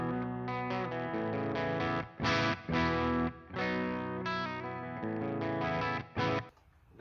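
Electric guitar through a Peavey 5150 amp with the gain set around 3, playing a mildly overdriven riff of sustained chords and short choppy stabs, fairly close and alone.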